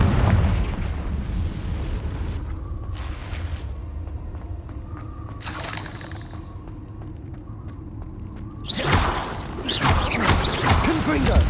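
Confringo blasting spells explode in Hogwarts Legacy as several booming, crackling bursts over rumbling combat noise, with the loudest blasts near the middle and end, mixed with voice-like game sounds.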